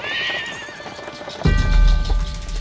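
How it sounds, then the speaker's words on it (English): Horses pulling a stagecoach along a dusty dirt road in Yellowstone park, with a high whinny followed by louder, close clip-clopping hooves and rumbling movement, no talk. "visitors toured the park along dusty dirt roads in horse drawn stagecoaches"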